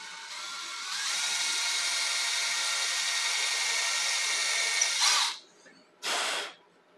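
A power drill whirs steadily for several seconds while drilling holes in wood for a bass guitar neck, cuts off, then spins up again in a shorter burst before stopping, close by with no talking.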